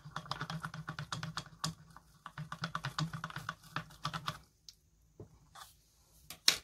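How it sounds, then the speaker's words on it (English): Glitter is stirred inside a sensory glitter jar with a rapid run of small clicking, tapping strokes that pause, then return as a few scattered taps. "I want my glitter to get all mixed up and not to clump too much at the bottom."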